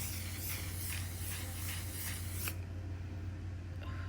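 Several quick spritzes of a makeup setting spray hiss in rapid succession close by, then stop, leaving only quiet background.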